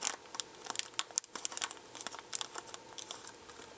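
An unsealed plastic bag of electronic parts for a Eurorack synthesizer module being handled, with quick, close, rustling crinkles in an irregular run, fairly soft and without talk.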